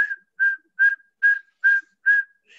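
A person whistles an imitation of a saw-whet owl call: six or seven evenly spaced, clear, single-pitch toots in a steady rhythm, loud and close, with no other sound.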